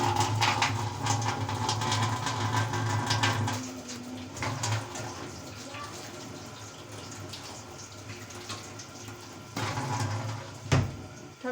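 Cold water pours onto a hot part, a continuous splashing flow that is loudest at first, then thins to trickles before a brief burst near the end, with no talk.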